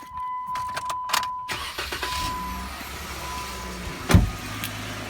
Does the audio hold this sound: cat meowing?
no